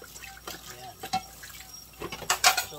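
Water spinach (kangkong) being washed in water, with splashes, drips and sloshing that build to a louder swish near the end, close, while a voice talks over it.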